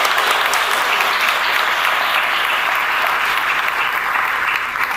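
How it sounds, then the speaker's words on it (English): An audience at a 50th anniversary celebration of emergency medical services honors award recipients with a loud, dense round of applause that holds steady and unbroken throughout. "One more round of applause."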